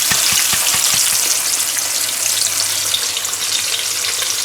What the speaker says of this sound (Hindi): इसे अच्छी तरह मिक्स कर लें और इसे अच्छी तरह भून लें